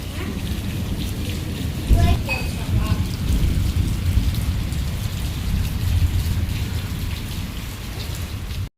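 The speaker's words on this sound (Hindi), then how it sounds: "बारिश अभी भी हो रही है और बादल भी गरज रहे हैं।" Steady rain pours throughout with a low rumble of thunder swelling underneath, heaviest around the two-second mark, with no voices.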